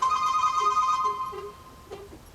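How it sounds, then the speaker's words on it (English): A telephone rings with a steady, bright electronic tone that holds for about a second and a half, then fades out, leaving quiet room sound and a faint breathy exhale. "Oh, there's the phone."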